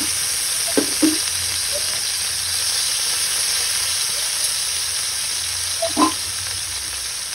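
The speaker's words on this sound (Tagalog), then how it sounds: "Lutuin naman po natin ang other side ng ating barbecue." Pork liempo sizzles on a barbecue grill with a steady, close frying hiss throughout, broken by a few brief clicks and taps of the tongs.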